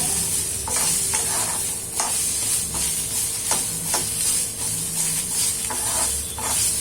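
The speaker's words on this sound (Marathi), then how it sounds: "कांदा आपला छान भाजून घ्यायचा आहे आपल्याला।" Onions frying in a pan for dhaba-style egg curry, a loud, steady sizzle close by, punctuated by a regular series of scraping strokes from a spatula, with no talk.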